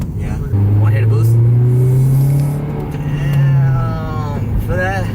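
Acura RSX engine revving hard with a strong low drone that climbs and falls, close inside the car, while people talk over it.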